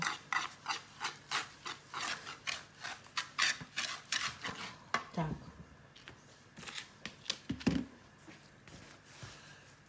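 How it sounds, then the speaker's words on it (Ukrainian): One egg and 80 grams of sugar are stirred briskly in a bowl, with quick rhythmic scraping strokes for about five seconds that then slow and stop, and a voice speaking briefly. "До одного яйця додаємо 80 грам цукру і розмішуємо"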